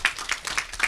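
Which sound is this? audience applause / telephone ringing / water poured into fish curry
audience applause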